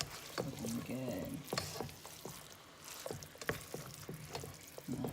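Onions, ground meat and seasonings cook in a single pot for chili, with a soft frying sizzle under repeated scraping stirs and a faint voice now and then.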